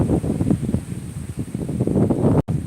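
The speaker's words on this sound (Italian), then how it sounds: "oggi proprio un vento pazzesco" Strong wind blows outdoors in rough, continuous buffeting gusts against the microphone, loud and unbroken for a few seconds with no voices.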